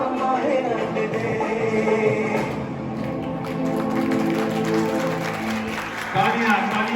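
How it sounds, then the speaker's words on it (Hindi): An audience claps steadily at a freedom fighter award event after a patriotic song, a dense, continuous patter of many hands filling the hall throughout. "तालियों की गड़गड़ाहट रुकनी नहीं चाहिए इस प्रांगण के अंदर"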